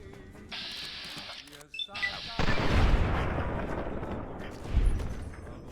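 Gunfire from VATS headshots in a Fallout video game, several sharp shots and booming impacts with rumbling low thuds, under a narrator's voice.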